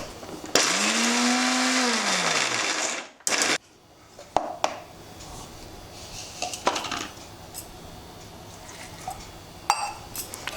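A mixer grinder whirs loudly for a couple of seconds as it grinds green chillies for banana flower vada batter, then stops, followed by the clatter of the jar, lid and utensils being handled.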